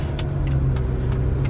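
A car engine runs steadily up close, giving a loud, even hum with a few faint clicks and rattles on top and no one talking.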